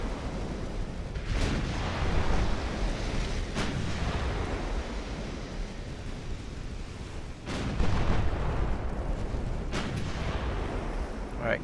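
Warship gunfire from Ultimate Admiral Dreadnoughts: a few sharp, heavy cannon booms from armor-piercing shell salvos stand out against a steady wash of sea and engine noise, with someone talking over it.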